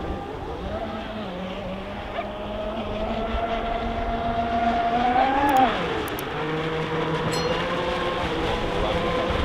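Mystic 5000 giant RC offshore boat running at speed, its engine whining steadily and rising in pitch as it accelerates, then dipping, heard from a moderate distance with wind and outdoor background.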